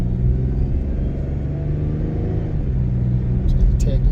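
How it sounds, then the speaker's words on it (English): A car pulls away from a green light at an intersection, its engine giving a steady low rumble that swells slightly toward the end, close by with a brief bright clatter near the finish. "It's green, I'm gonna accelerate."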